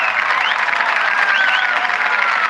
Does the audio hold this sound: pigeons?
no